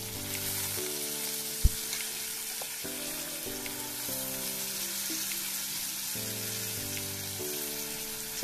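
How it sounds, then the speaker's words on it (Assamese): Drumsticks with cumin powder and spices fry in hot oil, a steady close sizzle that runs the whole time beneath background music. "ছজনাকেইডালো মই খুব ধুনীয়াকৈ ভাজি ল'ম, মানে তেলটো লগাকৈ ভালকৈ ভাজি লোৱাৰ পিছত মই পানী এড কৰিম।"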